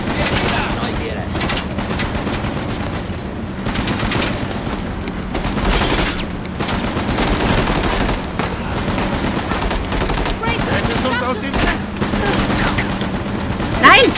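Rapid bursts of gunfire from the video game Uncharted: The Lost Legacy, dense and continuous with scattered sharp shots over game ambience, while someone talks over it at times.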